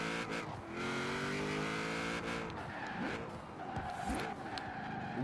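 Elcomino drag car on drag tires in Forza Horizon 4, engine revving hard with rising harmonic sweeps as it accelerates through gears, loud and close, with tire squeal and shifts in the latter half.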